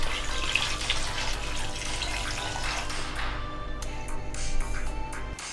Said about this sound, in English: Add 2 liter water or as required.